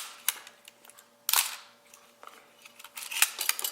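Several sharp mechanical clicks of a Nikon FG film SLR camera shutter firing at 1/90 second, separated by quiet gaps, close up and with no talking.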